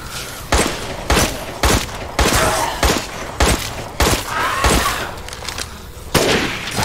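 Repeated gunfire in Resident Evil Village, a run of sharp, loud shots spaced irregularly about every half second to second, with a few clustered bursts and no talking over them.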